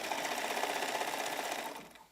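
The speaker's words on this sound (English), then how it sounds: "It doesn't take long for Mariam to work her sewing magic" A sewing machine stitches a seam along a large bed sheet, a fast steady mechanical whir close by that runs evenly and then winds down at the end.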